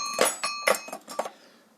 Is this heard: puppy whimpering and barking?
no